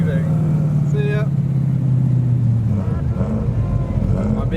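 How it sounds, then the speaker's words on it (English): A BMW E36 engine revs at a car show on a roundabout, a loud rising and falling engine note close by, with someone talking over it and crowd noise around. "E36 is revving"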